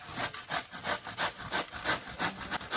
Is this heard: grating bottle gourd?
yes